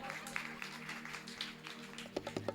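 Faint, distant applause from an audience at a Jain religious cultural program and aarti in R Block, Dilshad Garden, Delhi, a soft steady patter of many hands with a few sharper claps near the end.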